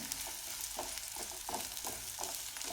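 Garlic sautés with onion and coconut for Kolhapuri misal: a constant close sizzle with regular stirring strokes scraping the pan about every half second, no voices.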